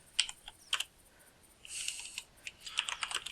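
Quiet keystrokes on a computer keyboard come in short clusters of clicks, with a brief pause and then a faster run of taps, close and otherwise silent.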